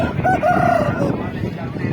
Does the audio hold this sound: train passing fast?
no